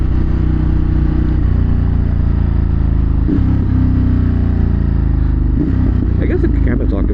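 Motorcycle engine droning steadily at close range while riding in traffic, a loud low rumble with small shifts in pitch and brief clatter, continuous throughout.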